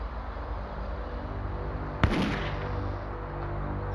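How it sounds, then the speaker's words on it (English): A single sharp gunshot cracks once out of a steady low background hum and fades quickly, loud and close, with no voices; it breaks the quiet of an early-morning residential street. "a gunshot shattered the morning silence"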